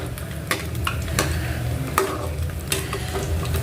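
Battered cauliflower chilli frying in hot oil crackles steadily while a slotted spoon turns the pieces, with sharp scraping clicks against the pan every second or so and no voices.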